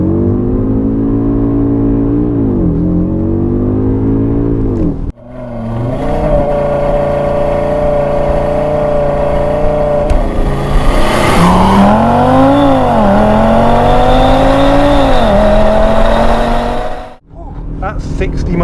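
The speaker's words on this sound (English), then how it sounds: "you've not lived until you've done a launch control in an Audi RS product" An Audi RS Q3 Sportback pulls away under launch control with ESC off: loud engine revving climbs through the gears with brief pauses at shifts, a roaring acceleration heard from inside the car.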